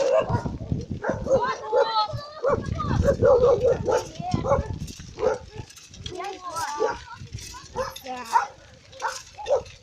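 Several dogs bark and yip in overlapping bursts in a village, fairly close, with people talking in the background throughout.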